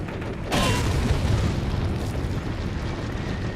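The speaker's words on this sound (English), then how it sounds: "I want to use the grenade at this point" A grenade explosion in the video game Resident Evil 4 goes off as a single loud, deep boom with a sharp onset, followed by a long rumbling decay.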